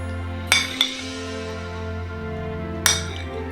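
A spoon clinks against a cup while black cherries are spooned over cake: two quick, close metallic taps, a pause, then one more clink over a low steady hum.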